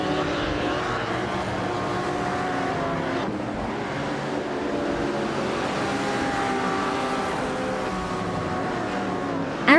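Steady engine drone of a 1963 Ferrari 250 LM race car in a racing video game, a continuous loud whine holding throughout with a slight shift in pitch partway.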